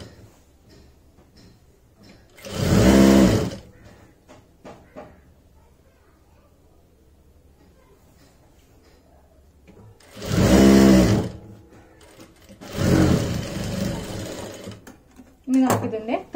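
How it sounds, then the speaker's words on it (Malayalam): A sewing machine stitches the folded hem of a churidar in three loud whirring bursts of a second or so each, separated by quiet handling and faint talk. "ഇതിനെ അങ്ങോട് മടക്കി തയ്ച്ച് നമ്മൾ എടുത്തിട്ടുണ്ട്"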